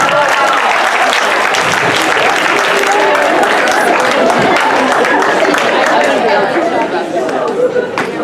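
A crowd at a comedy hypnosis show claps loudly for the volunteers on stage, dense sustained applause mixed with chatter and a few cheers, easing slightly toward the end.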